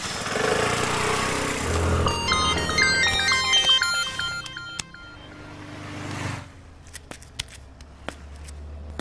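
A mobile phone ringtone plays a bright, stepped electronic melody of repeated tones for several seconds over engine-like background noise, then cuts off, leaving scattered clicks and a low hum.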